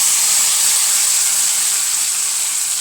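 Hot mixture poured into a pan of bitter gourd theeyal curry gives a steady, loud steam hiss that holds evenly for a few seconds, with no voices.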